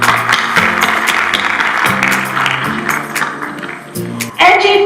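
Audience applause at a film launch ceremony in a Rawalpindi arts council hall, steady clapping with a few sharper taps, close and fairly loud, ending in a brief louder burst.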